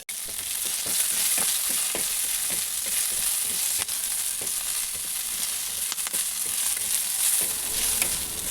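Green chillies roast in a pan with amaranth (ambadi) leaves for chutney, giving a steady close sizzle and crackle throughout with scattered sharp pops and scraping stirs, no voices.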